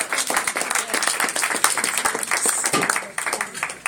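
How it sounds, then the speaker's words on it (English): Audience applause for a speaker at a talk on feeding nine billion people: a dense, steady burst of clapping from a crowd, fairly close and continuous for its whole length. "please give a round of applause for Courtney White and the Quivira Coalition."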